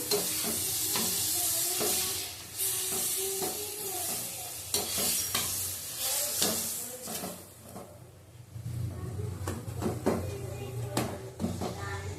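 An aloo paratha fries in butter on a pan, a continuous close sizzle and hiss broken by scraping and flipping noises, quieter midway, then louder crackling toward the end.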